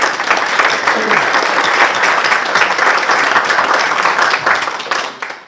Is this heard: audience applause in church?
yes